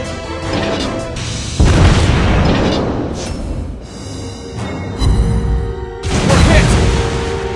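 Heavy shell hits strike a Hyuga battleship in World of Warships Blitz, loud booming crashes and explosions filling the clip in sustained rumbling waves, with a couple of sharp bursts standing out.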